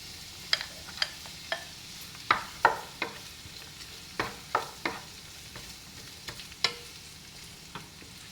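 Pork and onions fry in a pan, a soft continuous sizzle punctuated by irregular scraping clicks of stirring, close and fairly quiet with no talking.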